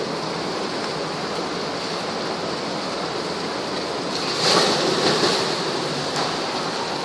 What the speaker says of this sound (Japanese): 波の音がすごい